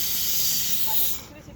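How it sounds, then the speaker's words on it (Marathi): A pressure cooker whistle at home releases a loud, continuous high hissing blast of steam that fades out after about a second. "अजून एका शिट्टी वाजली."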